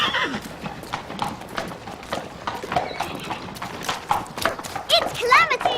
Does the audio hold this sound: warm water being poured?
no